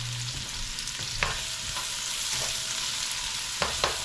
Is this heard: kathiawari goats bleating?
no